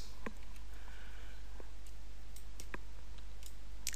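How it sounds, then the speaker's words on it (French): A computer mouse clicking while working in the Unreal Development Kit game editor: a few sharp, close, isolated clicks spread over several seconds against a steady low electrical hum, with no voices. "je clique ici 2 fois pour ouvrir les propriétés"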